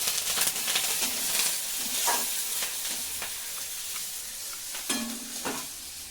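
Nigella seeds and green chillies sizzle in hot tempering oil for a Bengali rui fish kalia, a steady crackling hiss punctuated by several louder spits and pops, with no talk.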